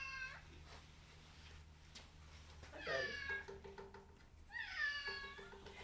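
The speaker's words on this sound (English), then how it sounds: "Y'all are hearing another cat." A needy cat meows loudly and close up in two long, drawn-out calls, with a brief greeting spoken softly beforehand and a low hum in the background.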